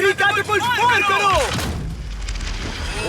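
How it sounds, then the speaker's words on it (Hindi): A catapult is fired at a yacht worth ten million dollars, a single heavy thump with a low rumbling impact that follows a burst of excited voices. "आखिरी कैटापल्ट फायर करो।"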